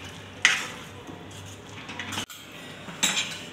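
A spoon stirs tadka into palak paneer in a cooking pan, making a few scraping, clinking strikes against the metal. They come close, at a moderate level, with quiet gaps between them and no talking.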